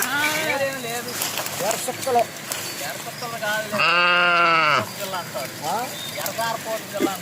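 A ram of a breed from Gangireddipalem on a sheep farm gives a loud, close, wavering bleat lasting about a second, surrounded by people talking and other shorter bleats.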